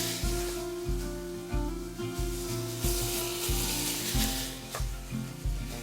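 Vegetables sizzling and frying in a tablespoon of added oil in a pan for Spanish-style chicken and rice, a steady close hiss with a low rhythmic thumping of stirring throughout, no talk.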